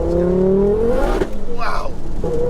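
A 689bhp front-wheel-drive Ford Focus RS spins its wheels on a wet road, the engine note rising steadily then dropping and rising again, loud and close, with excited voices over it.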